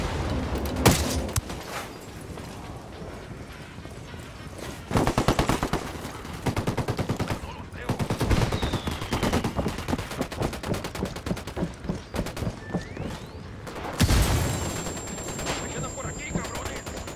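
Sustained bursts of automatic gunfire and scattered single shots in a Ghost Recon Wildlands firefight while destroying a coca stockpile, loud and rhythmic through most of the stretch, with a heavy blast near the end.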